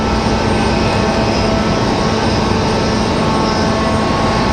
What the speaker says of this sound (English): here comes Delta 1518. 54 minutes of flight time for the 737 here